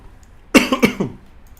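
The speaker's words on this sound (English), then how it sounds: "Sorry for my cough again." A short burst of coughing, two or three quick harsh coughs close to the microphone, then quiet.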